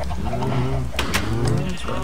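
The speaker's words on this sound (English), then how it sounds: "Chickens are fine by themselves." Video-game chickens cluck and coo in soft, repeated low calls, with a couple of sharper bursts in the middle, close and steady.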